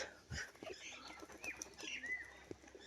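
Tumbler pigeon in flight, wings producing faint airy whistles and flutters at a distance, with soft intermittent bird sounds and no talking.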